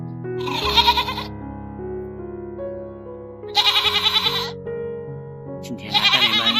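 Goats on a free-range farm, kept alongside ducks and rabbits, let out three loud, wavering bleats in separate bursts close by, with a steady low background hum between them.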